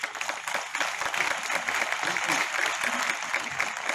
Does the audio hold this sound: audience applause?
yes